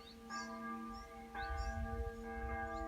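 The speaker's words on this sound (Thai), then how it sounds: "ปกติ 6 โมงที่โบสถ์จะมีตีระฆังแบบนี้" Church bells in Lund, Sweden, ring out the six o'clock hour near an allotment garden; three resonant strikes about a second apart sound from a short distance, fairly faint, with long humming tails.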